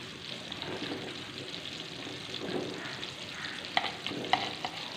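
Whole spices (cumin, cinnamon and bay leaves) crackle in ghee in a kadai, a soft continuous sizzle with gentle stirring, then a few crisp metallic clinks of a spoon near the end.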